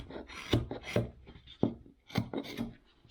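Sandpaper works over a hand-carved wooden caricature cowboy bust in short, quiet strokes, each a brief scratchy rasp with small pauses between, close up and without speech.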